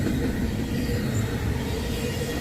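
A freight train made up of truck and trailer flatcars rolls steadily past on the rails, a dense, continuous rumble and rattle of wheels filling the scene without a break.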